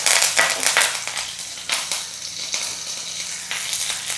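Mustard seeds, dried chili and curry leaves frying in hot coconut oil: a steady close sizzle with irregular sharp pops and crackles from the seeds bursting, no talking.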